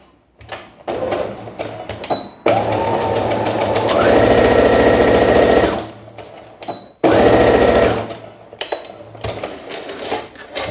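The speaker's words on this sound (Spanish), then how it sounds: "Dejamos estos 15 centímetros sin coser y continuamos cosiendo a partir de la segunda marca." Sewing machine stitching a cork tote bag, two steady whirring runs of rapid needle strokes, close and loud, separated by a pause, with brief handling noises at the start and end.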